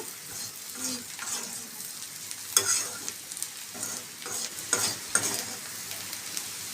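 Radish fry sizzling steadily in a pan while a spoon stirs and scrapes it, with a few sharper clinks of utensil on metal, close and continuous, no speech.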